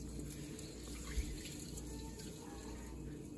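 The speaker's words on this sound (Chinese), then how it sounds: "水要倒差不多了，然后我们就关掉" Tap water runs steadily into a bowl of rice being washed at a kitchen sink, a continuous soft splashing stream with no talk.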